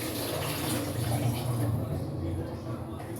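Water runs and splashes into a small bowl in a home kitchen, a continuous trickling pour under a voice talking nearby.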